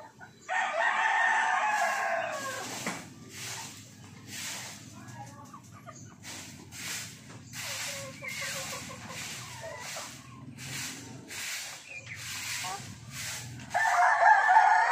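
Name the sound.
chickens and roosters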